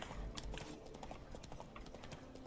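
Hooves clip-clop in a quick galloping rhythm as a horse runs in The Witcher 3: Blood and Wine, steady and fairly close for the whole stretch under a low rumble of ambience.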